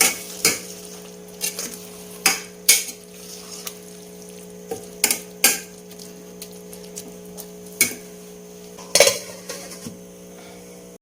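Kerala aviyal being stirred in a metal pot and covered: repeated sharp clinks and scrapes of a spoon against the pot, spaced irregularly about a second apart, with a louder clatter near the end, no talking.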